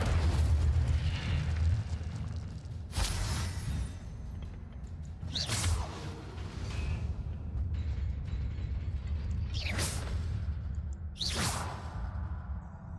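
Fire spells erupt in the Hogwarts Legacy video game, with repeated whooshing bursts roughly every two to three seconds over a constant low rumble of game ambience.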